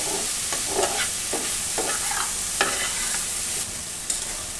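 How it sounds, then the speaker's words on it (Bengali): Kohlrabi curry frying in a pan over high flame, a constant loud sizzle broken by repeated scraping strokes of stirring. "এবার একটু সময় নিয়ে ভালো করে ভেজে নেব"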